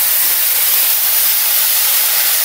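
Onions sizzle in hot, darkened oil in a pan for a Pangas fish curry, a loud, steady, unbroken frying hiss with no pauses.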